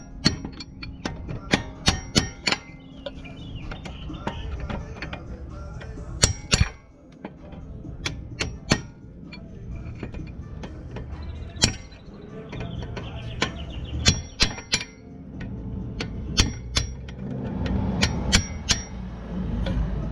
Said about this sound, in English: we're just gonna take off the pins, and you just have to hammer them out